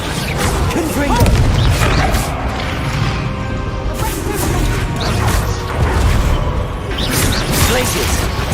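Fire spell explosions burst during a loud, busy fight in the Hogwarts Legacy video game, with booms and crashing hits layered over constant game sound, and a voice talking throughout.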